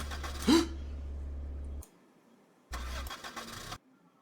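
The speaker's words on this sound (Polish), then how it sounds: "Odpaliłem silnik, dobra." A car engine in a driving video game cranks and starts, then idles steadily before cutting out; after a pause it runs again briefly and stops, close and clear with no talk.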